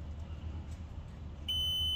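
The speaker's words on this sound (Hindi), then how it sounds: "कनेक्टिविटी में हमारा बीप साउंड आ रहा है" A short, steady high-pitched multimeter continuity beep sounds near the end while the fuel gauge wiring of a Nissan Terrano is being tested, following a low background hum.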